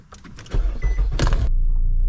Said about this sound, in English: I think first I'm gonna move the car and turn it around.